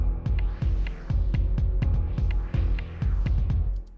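Two stacked synth layers in a cinematic EDM hybrid-mallet style pulse in a quick, even throbbing rhythm, with a slow filter sweep swelling the brightness up and back down across the loud, continuous passage.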